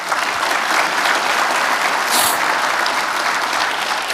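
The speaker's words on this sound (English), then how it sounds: "let's give everybody a round of applause" Conference audience at an annual awards event clapping steadily and loudly, a dense wash of many hands with a few brief cheers, continuous for a few seconds.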